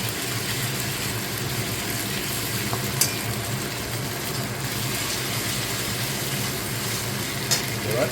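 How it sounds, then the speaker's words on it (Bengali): Onion stirred and frying in a pan, a steady close sizzle with faint scraping throughout. "পেঁয়াজটা আমরা ভালোভাবে নেড়ে একটু ব্রাউন কালারে করে নেব"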